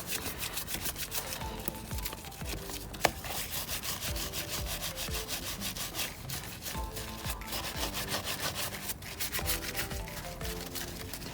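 A stiff-bristle brush scrubs hard at a soapy car wheel rim, giving a steady, dense rubbing rasp that continues throughout, close up, with one brief sharp knock partway through.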